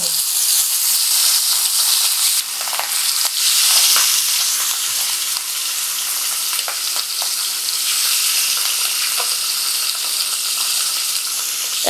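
Bacha fish fry in very hot oil in a wok, a loud, steady, hissing sizzle with occasional crackles and pops, close and continuous with no voices.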